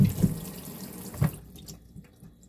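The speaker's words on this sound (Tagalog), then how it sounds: "lilinisin natin ng maayos ang ating mga cucumber" Cucumbers being washed under a running kitchen tap before making Korean cucumber kimchi; loud close splashing bursts at first, then the water thins to a softer trickle and fades.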